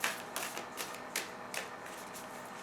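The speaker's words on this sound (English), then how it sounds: "we're going to start shuffling for Taurus" Large tarot cards being shuffled by hand: a dense, crackling rustle with short bursts of riffling and papery flicks, close and continuous, with no talking.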